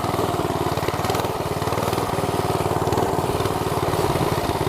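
Small mini bike engine running steadily while being ridden along a bike path, a loud, close, continuous buzzing drone with a fast pulsing rhythm and little change in pitch.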